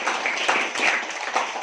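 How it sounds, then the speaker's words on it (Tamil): An audience at a school management committee meeting in Vellore district claps to welcome the headmaster, a dense patter of many hands, fairly close and steady, lasting the whole moment. "அவருக்கு ஒரு முறை நாம கைத்தட்டி வரவேற்போம்."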